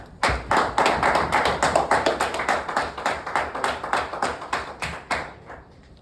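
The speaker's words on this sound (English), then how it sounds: "a befitting round of applause for someone of this caliber" A small audience at a Toastmasters meeting claps for a speaker in near-unison, producing crisp, evenly spaced claps at about four per second that stay steady for several seconds, then stop.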